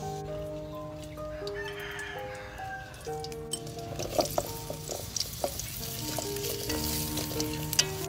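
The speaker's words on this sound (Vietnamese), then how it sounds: "Dầu nó sôi mình sẽ cho hột cà ri vô" Curry seeds fry in hot oil with a continuous crackling sizzle and scattered pops, while a rooster crows in the background during a Vietnamese cooking session.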